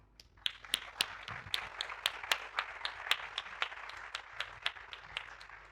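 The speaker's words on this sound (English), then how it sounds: "The second round of applause" Sparse, scattered clapping from a small conference audience, individual sharp claps ringing out at an uneven pace, fairly quiet with no voices.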